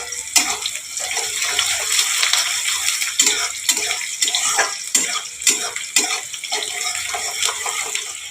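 Whole cumin seeds and chopped onion with a pinch of sugar sizzle in oil in a pan for a Bengali aloo dum, making a steady, dense crackling hiss with small spattering pops throughout, close and fairly loud with no talk.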